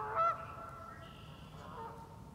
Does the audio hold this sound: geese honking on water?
yes